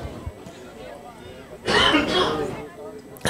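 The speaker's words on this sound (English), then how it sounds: "A little cough pops up every now and then for some reason." A short burst of coughing in the middle of a baseball game broadcast, fairly close and loud, breaking up quiet background noise.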